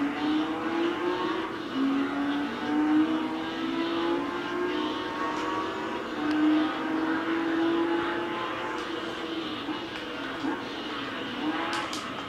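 A Nissan GTR race car in Gran Turismo 3 at Laguna Seca keeps a steady, strained engine note through the lap. Faint tire squeal comes in as the car slides wide through the first hairpin.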